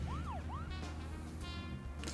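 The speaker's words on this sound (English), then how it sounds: "when I let go of one button, the siren goes off" A wailing car siren from the video game Deadly Premonition, rising and falling in quick sweeps at the start before fading under rumbling engine and game background noise, fairly faint with no talk.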